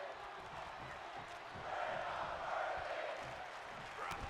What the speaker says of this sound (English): The crowd chanting, "We're not worthy."